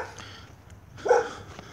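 A dog barks once on a street, a short, moderately loud bark about midway through, with quiet outdoor background around it.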